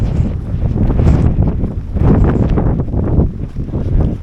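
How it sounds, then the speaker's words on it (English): Strong wind buffeting a microphone on an open Scottish hillside near Glendhu Bothy, a loud, gusty roar that swells and dips in waves with no voices. "You can see the wind actually, the speed of the clouds just rolling by here."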